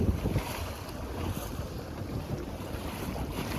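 A sailboat under way on the water toward Poulsbo, with steady wind buffeting the microphone and waves washing and slapping against the hull, continuous and fairly close throughout.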